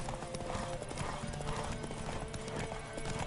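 Galloping horse hooves pound steadily during a race in The Witcher 3, a dense, close clip-clop rhythm with a faint whinny and a low tonal drone beneath, no voices over it.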